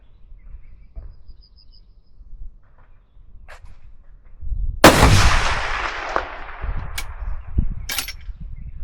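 A single loud firearm shot during an Oulu recoil test, with a sharp crack and long echoing decay, then a few fainter impacts and handling sounds in an outdoor setting.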